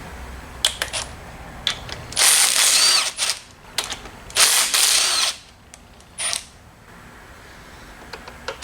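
Bursts of a power tool driving a socket to loosen bolts on an AMC 304 V8 engine during a teardown, several short whirring runs of one to two seconds separated by pauses and small clicks, close and fairly loud.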